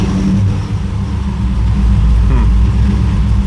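An LS-swapped 1981 Trans Am V8 with Pypes exhaust idles close by, a steady low rumble that holds loud and even with a slight unsteady lope throughout.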